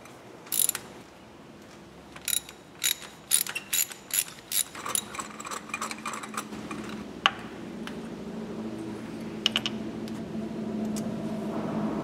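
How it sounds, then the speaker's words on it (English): Ratchet clicking in short bursts as a 5/8 deep socket on an extension loosens spark plugs on a Honda Element or CR-V engine, close and fairly quiet, with scraping tool handling between strokes. "I'm going to use a 5/8 normal deep socket with an extension"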